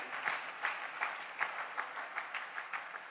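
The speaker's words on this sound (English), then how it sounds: "I think if he deserves a round of applause, feel free and do so." Applause from an audience for a speaker at a STEAM networking talk, a modest scattering of claps with soft rhythmic peaks, fairly quiet and moderately distant, no voices.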